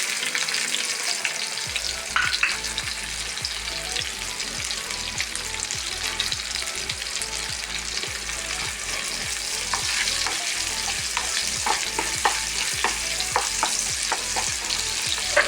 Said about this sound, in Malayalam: ഒരു സബോള നമ്മൾ ഈ വെളിച്ചെണ്ണയിൽ ഇടാം